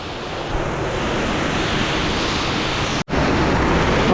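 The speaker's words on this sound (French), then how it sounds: "Donc succession de cascades." Water tumbling down a succession of cascades inside the Goule de Foussoubie cave: a loud, steady, enveloping roar that cuts out for an instant near the end, with no talking.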